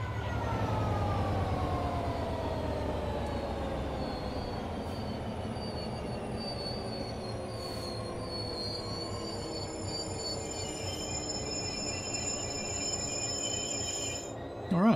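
A train in Train Sim World goes into emergency braking, a sustained high-pitched wheel squeal that steadily slides in pitch over a continuous low rumble of rolling stock, loud and unbroken throughout.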